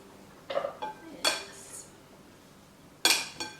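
Chopped kale and quinoa salad being tossed in a bowl, with a few sporadic clinks and knocks of utensils against the dish separated by quiet pauses.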